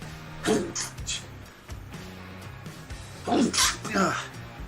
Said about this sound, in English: Don't you hate it when you just have to sneeze?